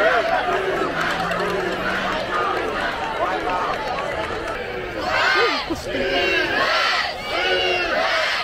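School sports fans at a ball game make a crowd din of chatter and shouting, with louder bursts of cheering and yelling near the end; voices talk over it.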